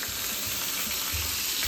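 Squid stir-frying and caramelizing in a hot pan, with a steady broadband sizzle running continuously at close range and no voices.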